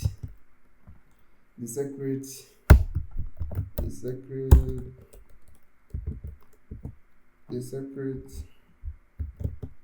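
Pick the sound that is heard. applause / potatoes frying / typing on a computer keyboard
typing on a computer keyboard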